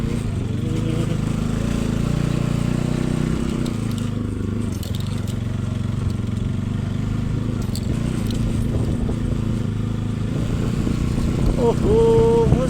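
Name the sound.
motorcycle engine riding on a rough road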